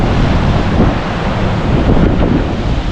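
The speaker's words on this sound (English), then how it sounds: "It's a little breezy." Strong wind blows across a deck overlooking the Humboldt coast near Houda Point and Trinidad, a loud continuous roar buffeting the microphone with surf mixed underneath.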